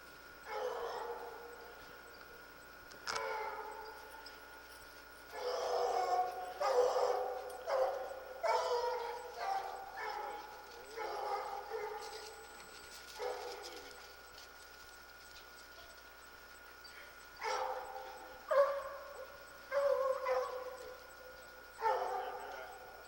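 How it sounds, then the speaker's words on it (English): A dog barks and yips outdoors on a hillside track, with repeated bursts of sharp yelps coming in clusters, fairly close and loud, separated by short pauses. "Got a dog coming back down."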